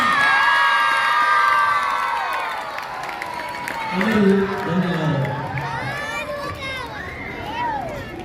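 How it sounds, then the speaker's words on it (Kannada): A crowd at a Kannada-medium school event applauds and cheers for the teachers, with shouting children and a voice speaking over the noise as the clapping gradually fades. "ಜೋರಾದ ಚಪ್ಪಾಳೆ ಮೂಲಕ ಅವರಿಗೆ ಧನ್ಯವಾದಗಳನ್ನು ಅರ್ಪಿಸೋಣ"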